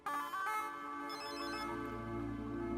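A telephone rings with an electronic musical ringtone in a bedroom scene from a Hindi-dubbed film, a continuous melodic tone that is close and clear with no talk over it.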